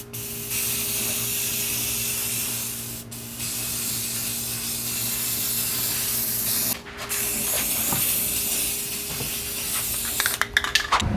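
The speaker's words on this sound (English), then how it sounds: "give it some spray paint." Long hissing bursts of aerosol spray paint, broken by brief pauses, ending in a few short spritzes and clicks, with no talking, while replacing a mudflap.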